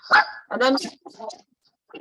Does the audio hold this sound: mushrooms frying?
no